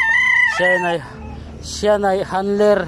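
A gamecock on a rooster farm crows loudly and close by in two long, harmonic calls separated by a short pause, with a brief spoken voice in between.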